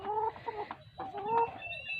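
Chickens clucking on a small backyard farm, a few short, close clucks and murmuring calls in quick succession, fairly quiet, with no one talking.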